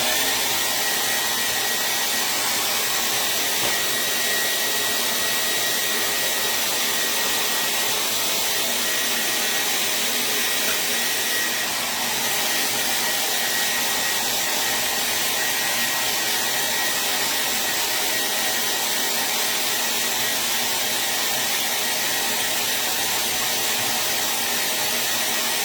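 A hair dryer blowing on chalk paint on a porch sign, a loud, steady, close airy roar with a faint whine that runs unbroken throughout, without talking.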